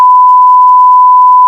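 A single loud, steady electronic tone held for about a second and a half, like a censor bleep, with nothing else around it.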